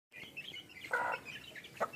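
A small group of young chicks gives a few faint, brief, high chirps in quick succession, heard quietly close by with no talking.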